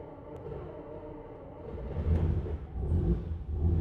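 A 1969 Ferrari 365 GTC engine turns over and fires, a low rumble swelling into a louder, steady roar near the end, heard close with no talk.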